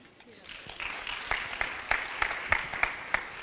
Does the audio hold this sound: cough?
no